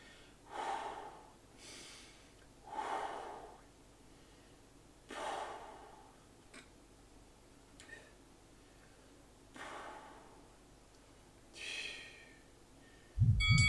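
Workout breathing during an upper-body bodyweight strength session: about six slow, close breaths, alternating audible inhales and exhales, evenly spaced with quiet gaps and no talking.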